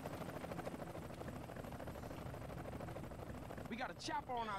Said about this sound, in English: We got a chopper on our tail